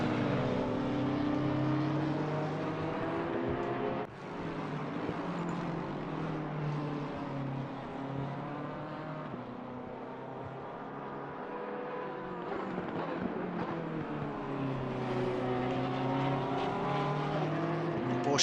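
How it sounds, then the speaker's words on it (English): Race cars circle Watkins Glen in Assetto Corsa Competizione, engines droning and shifting pitch steadily, one car's tone rising and falling as it closes in, with a brief dip partway through. "Porsche is completely glued on the rear bumper there of Vidigo."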